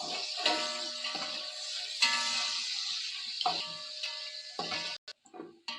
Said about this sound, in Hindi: ये इसको थोड़ा सा मैं फ्राई कर लूँ।